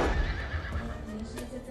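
An Arabian horse at a horse festival whinnies loudly and close, the neigh rising over a low background of clip-clopping hooves and faint voices.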